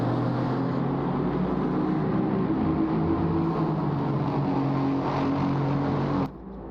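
Mercedes-AMG GT4 race cars running close together at Brands Hatch, a steady loud engine drone with strong low harmonics that holds for about six seconds, then cuts off abruptly.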